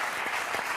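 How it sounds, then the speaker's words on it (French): TV studio audience applauding a guest on a French talk show, a steady dense wash of clapping filling the whole short moment with no talk over it. "Vous pouvez applaudir Marc-Antoine Lebray."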